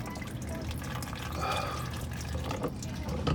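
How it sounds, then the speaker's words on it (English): Motor oil from a removed oil filter on a 1998 Chevy Tahoe trickles and drips in a steady, close liquid stream, with a few soft knocks near the end. "See oil starting to drip down from it."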